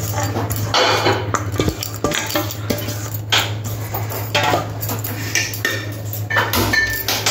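The remaining rice for a chicken biryani goes into a pot with repeated scraping and clanking of a metal utensil against cookware, close and irregular over a low steady hum.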